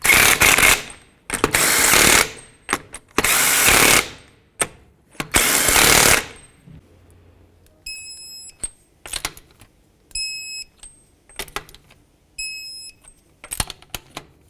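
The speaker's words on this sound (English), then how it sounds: "Start on all 5 of your lug nuts, snug them up, and then I'll torque them to 80 foot-pounds." An impact wrench spins lug nuts onto a wheel of a 2003-2007 Nissan Murano in several loud, sharp bursts, followed by a series of repeated electronic beeps and short clicks.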